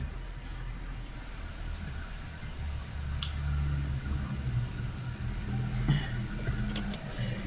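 An old Fendt tractor engine running in the video game Farming Simulator 19: a steady low mechanical drone, with a few faint clicks on top.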